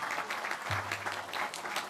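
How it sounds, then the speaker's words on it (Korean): Applause from the audience at a Democratic Party floor leader election convention, honoring the floor leadership team: a brief, moderately faint patter of clapping hands with a low hum beneath. "여러분 큰 박수 부탁드립니다"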